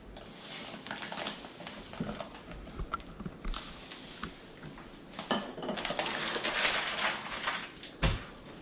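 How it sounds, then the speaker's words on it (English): Brown and white sugar stirred together in a mixing bowl for a homemade apple cake, a close, irregular clatter and scraping of utensil against the bowl, with a few sharper knocks. "And we're going to mix the sugar in this."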